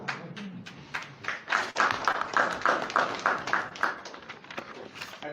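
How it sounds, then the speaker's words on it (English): Audience applause for the chairman at a political gathering in Edo State: a small group claps in a fairly steady, brisk rhythm at moderate volume, with the claps sounding near and distinct. "I think the chairman deserves a louder round of applause."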